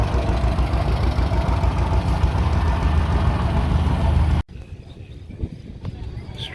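An old John Deere 730 tractor engine idles loud and close at a threshing show with a steady rough rumble, then cuts to a quieter stretch where the engine still chugs faintly.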